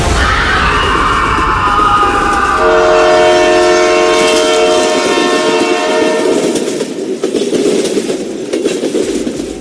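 A train rumbles along the rails with a sustained horn blast over the clatter of the wagons, loud and steady throughout.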